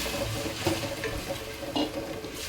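Sabudana (sago pearls) sizzling in ghee in a pan, a soft steady frying crackle broken by a few clinks and scrapes of stirring.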